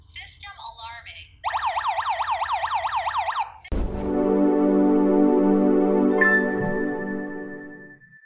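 A KERUI alarm host siren sounds loud and close, first a warbling, rising-and-falling electronic wail, then a steady piercing alarm tone that holds for several seconds before it fades out.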